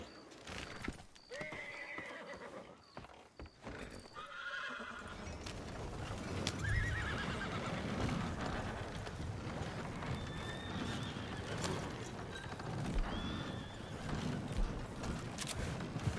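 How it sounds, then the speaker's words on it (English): A horse in the Red Dead Online video game gives a loud whinny partway through, with clopping hooves and outdoor game ambience continuing steadily around it. "Where did my horse"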